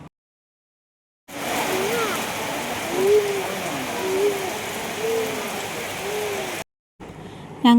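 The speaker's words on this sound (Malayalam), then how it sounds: "ഞങ്ങൾ അവിടെ എത്തിയപ്പോൾ തന്നെ നല്ല മഴ ആയിട്ടോ." Heavy rain pours at Kottakkunnu as a steady, dense hiss for several seconds, broken by abrupt cuts to silence, with faint voices murmuring under the downpour.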